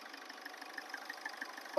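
A Ford Fiesta diesel engine runs with a steady, moderately quiet hum and a faint knocking texture, with no clear rise in pitch, before a sudden louder burst at the very end.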